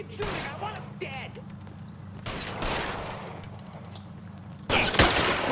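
Gunfire in the L.A. Noire video game, several bursts of sharp shots spread across the moment, mixed with voices shouting and talking over the shooting.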